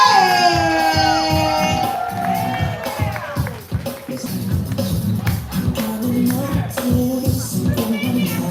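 A live-event crowd cheers for the artist CJ, opening with drawn-out whoops and shouts, then settling into rapid clapping and scattered hollering.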